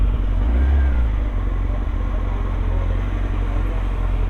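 A motorcycle engine revs hard past 10,000 RPM on a ride, a loud, rising mechanical roar that stays steady and close throughout.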